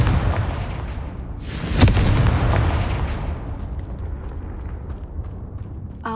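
A Confringo blast spell goes off in the video game Hogwarts Legacy: one loud, close explosive burst with a sharp crack, followed by a long rumbling wash of noise that slowly fades.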